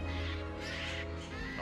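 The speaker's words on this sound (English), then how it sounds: "All those birds are going crazy out there." Several crows cawing in quick succession at a moderate distance, harsh and repeated, over a low background hum.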